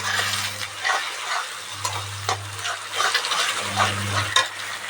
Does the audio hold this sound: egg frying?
yes